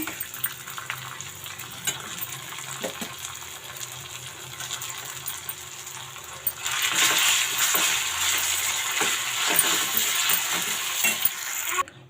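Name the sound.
stirring vermicelli (semiya) in a pan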